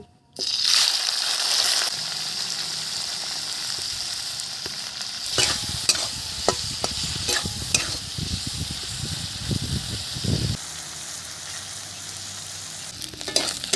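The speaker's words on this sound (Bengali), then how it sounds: "তেল গরম হয়ে গেছে চিংড়িটা দিয়ে দিলাম" Prawns hit hot oil in a wok and sizzle loudly. A continuous frying hiss follows with clattering stirs and scrapes midway, close and prominent, and no one speaks.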